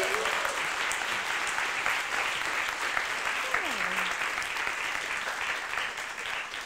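Audience applause after a talk, a dense continuous clapping from a seated crowd, with brief voices rising over it partway through.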